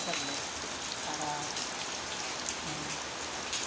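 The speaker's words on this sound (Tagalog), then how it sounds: "lakas pa rin ng ulan eh" Heavy rain pours steadily outdoors, a dense, even hiss with no letup throughout, faint scattered sounds beneath it.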